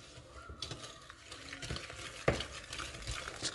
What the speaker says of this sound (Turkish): Toz şekerle krem peyniri güzelce karıştıracağım.